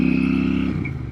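A Royal Enfield Super Meteor 650 air- and oil-cooled parallel twin with belt drive rides along with a steady, smooth engine drone, loud and close, easing slightly near the end.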